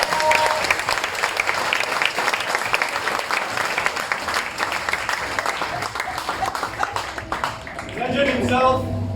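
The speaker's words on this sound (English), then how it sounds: "can I have a warm round of applause for Subhashis Bhattacharya from Debashis" Warm audience applause for a workshop performer at a world music festival, dense sustained clapping from a crowd that tapers off near the end as a voice begins to speak.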